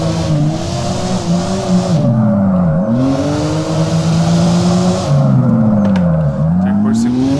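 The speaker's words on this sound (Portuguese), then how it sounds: "Vamos tentar fazer um drift aqui em cima." A car revving hard while attempting a drift, a loud close engine rising and falling through repeated pulls and gear changes, with a gritty roar and a hiss that cuts in and out.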